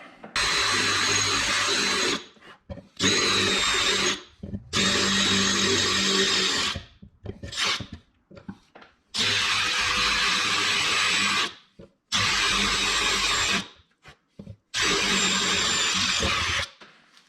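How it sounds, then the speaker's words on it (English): A power drill whirs loudly in several sustained bursts of a second or two each, drilling holes in the doors of a Yamaha YXZ side-by-side, separated by short silences, close by. "let's go ahead and drill them out"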